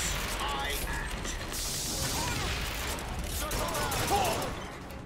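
Gunfire in the Bioshock Infinite video game, a dense, steady barrage of shots and mechanical clatter running throughout, with a person talking over it.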